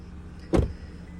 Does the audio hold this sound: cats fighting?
no